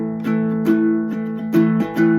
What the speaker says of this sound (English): Line 2 starts on your A5, where you play strumming pattern 2 once.